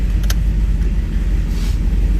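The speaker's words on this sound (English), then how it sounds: "Alright, let's back her out of here." A Nissan 240 backing out of a shop, its engine giving a steady low rumble that fills the whole stretch with no talk over it.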